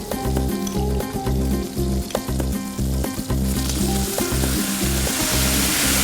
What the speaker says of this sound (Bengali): এখন তাহলে এটার মধ্যে আমি যে সসটা রেডি করে রেখেছিলাম সেই সসটা দিয়ে দেব।